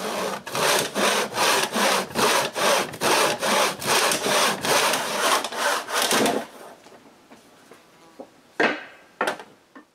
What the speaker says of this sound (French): puis je peux couper les pattes.